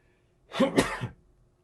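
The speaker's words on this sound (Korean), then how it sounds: "제가 잠시 기침을 좀 하겠습니다" A single short, close cough bursts out, then quiet.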